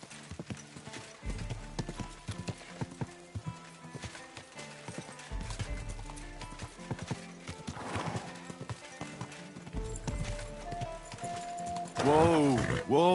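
Horse hooves clip-clopping steadily in Kingdom Come: Deliverance 2, with people talking over them and a horse whinnying loudly near the end.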